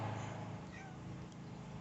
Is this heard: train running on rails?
no